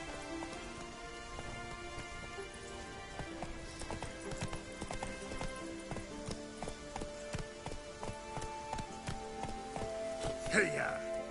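Roach the horse gallops in The Witcher 3, hooves clip-clopping in a quick, steady rhythm over a busy game soundscape with music tones, continuous throughout.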